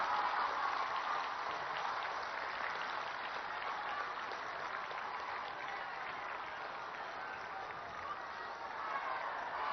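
Sustained applause from a large audience at a public inauguration and foundation-laying event, greeting the Prime Minister; dense steady clapping fills the whole stretch with crowd murmur, no clear speech over it.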